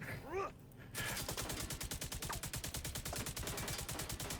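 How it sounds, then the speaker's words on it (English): Rapid automatic gunfire from a video game, fired from the hip with a rocket launcher, bursts out after a brief chirping sound and a short pause, then keeps up a fast, steady, loud rattle of shots. "He's hip firing a rocket launcher."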